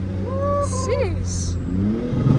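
A Dodge Hellcat Redeye V8 revs close by with a rising, throaty engine note and a couple of crackling exhaust pops. Excited talk runs over the engine sound.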